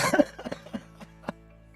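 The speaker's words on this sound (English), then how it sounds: "Oh, I got a cough" A close burst of rapid coughs, several in a row, followed by a couple of softer single coughs trailing off.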